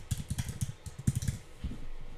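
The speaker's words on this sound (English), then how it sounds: "Literally type in your domain name" Quick keystrokes on a computer keyboard, a fast run of close clicks in two bursts with a brief pause between, heard alone with no voice.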